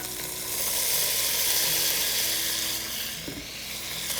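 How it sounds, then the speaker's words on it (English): Onion and andouille sausage frying in melted butter in a pan for squash casserole, a continuous close sizzle that swells and eases, with a brief utensil scrape near the end and no speech. "I'm cooking some andouille sausage right on top of it"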